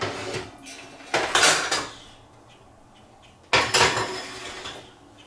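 Metal muffin tin for apple rhubarb muffins clatters against oven racks as it goes into a 400-degree oven: two sharp metallic clanks with rattling, about two seconds apart, near and fairly loud, with no talk.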